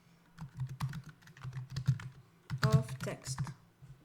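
Keys on a computer keyboard tapped in quick bursts of close, crisp clicks while text is entered for a web development project, with a brief low voice partway through.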